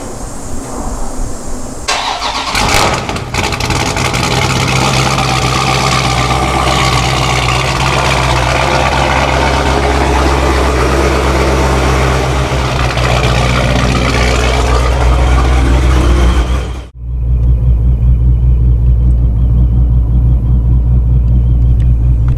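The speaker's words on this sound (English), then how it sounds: "You give you guys a cold start." A Mopar car on a cold morning cranks and fires up, then settles into a loud, steady, deep idle rumble close by, with a brief dip as the engine catches again near the end, and no talking.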